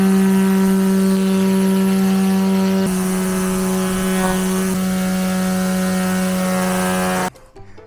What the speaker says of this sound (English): Let's mow.